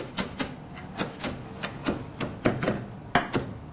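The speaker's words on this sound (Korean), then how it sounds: "숙주는요, 잘게 썰어주시고" A knife finely chops mung bean sprouts on a cutting board, making a quick, steady series of sharp, close taps, about three per second, with no talking.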